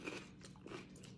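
Celery sticks crunch as they are bitten with buffalo chicken dip: a couple of crisp, close chewing crunches within a brief moment, with no talking.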